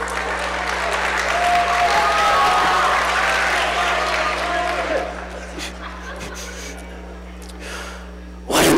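A large crowd at an awards show applauds loudly and steadily, then the clapping thins and fades into scattered claps and murmurs, with a short burst of noise at the very end.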